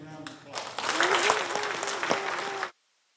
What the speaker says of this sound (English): Would you please give these folks a big round of applause?